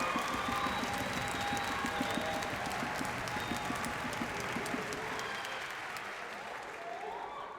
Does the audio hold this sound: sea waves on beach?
no